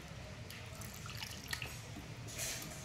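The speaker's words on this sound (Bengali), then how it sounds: "এই সাইডটা আমি ভালো করে ধুয়ে আমি অল্পটা জল দেব" Water trickles and drips steadily into a pan of boal fish masala, a soft, continuous splashing with a slightly louder gush near the end, fairly faint and close.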